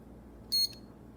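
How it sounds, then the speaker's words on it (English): A Pampered Chef kitchen timer gives a single short, bright electronic beep followed by a faint second chirp while being set, alone over a quiet room hum. "So now I'm going to take my Pampered Chef timer. I'm going to go to minutes. I'm going to put it on 18 minutes to start."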